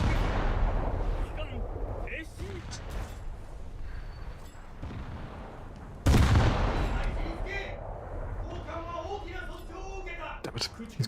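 Naval artillery fires in World of Warships during a low-tier match, heavy booming salvos with one especially loud blast midway, mixed with game effects and ocean ambience while someone talks throughout.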